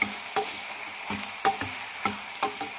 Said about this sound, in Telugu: టమాటా బీరకాయ ముక్కలు మొత్తం అయితే కర్రీలో అయితే కలిపేసుకుని ఒకసారిగా మొత్తం కలిపి వేసుకున్నాం